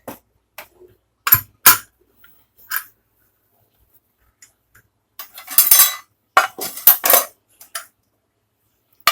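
A pressure cooker lid is opened after cooking boti gojju (tripe curry) through six whistles, giving a few scattered metallic clinks and clanks, then a denser burst of rattling metal contacts near the end, close and moderately loud with quiet gaps between.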